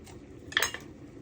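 A spoon scraping the soft flesh out of split moringa drumsticks gives one quick, close metallic scrape that lasts a fraction of a second against a quiet background.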